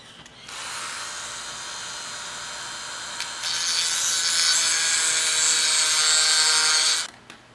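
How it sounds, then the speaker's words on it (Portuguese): Impact wrench working on a slotted screw on a Yamaha XV 250 Virago motorcycle starter motor, a loud continuous high-pitched whine that starts, steps up in intensity partway, then cuts off sharply. "Bora tentar a fenda com a chave de impacto e vamos ver se vai soltar."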